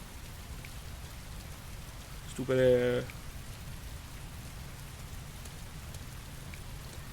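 Steady rain falling in the video game Heavy Rain, a constant soft hiss filling the whole stretch, briefly interrupted by a short burst of a voice.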